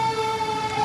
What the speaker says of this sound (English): You can hear the sirens behind us.